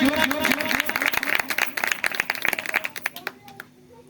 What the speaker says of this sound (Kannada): ಚಪ್ಪಾಳೆ ತಡಬೇಕು ಜೋರಾಗಿ